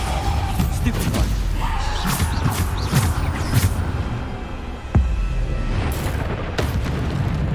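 Explosive spell blasts from a Harry Potter action video game, several sharp booms and bursts scattered through a steady game soundtrack, with one stronger thud near the middle.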